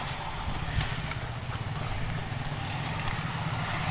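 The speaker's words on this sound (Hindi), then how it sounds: "हवा चल रही है ठंडी ठंडी" Cold wind blows through hills and mountains, making a steady, loud, broadband rush and buffeting against the microphone that continues without pause.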